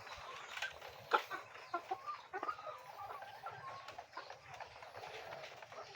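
Chickens, red-tail layer hens on an egg-collecting farm, cluck and call in a steady close chorus with scattered sharper squawks over a busy barnyard background.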